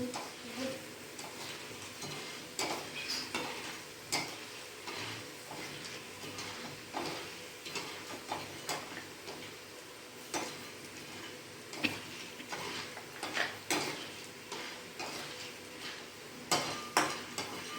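Dry fruits and gond roasting in ghee in a pan, with soft frying sizzle under irregular stirring scrapes and light ticks throughout, steady and close.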